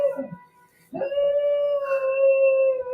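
A dog howls in a long, steady, singing tone that rises after a brief pause and holds for a couple of seconds, loud and close, with no talking.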